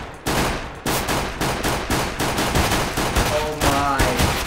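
Glock 18 pistol firing in Counter-Strike: Global Offensive, loud rapid bursts of shots repeating in a fast, regular rhythm with no pauses for talk.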